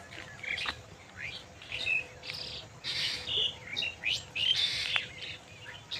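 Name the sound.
various birds calling in village fields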